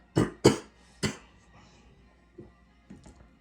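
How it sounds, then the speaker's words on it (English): Three sharp coughs in quick succession, then two fainter ones after a short pause, fairly close and loud against a quiet background. "I'm sorry for the coughing"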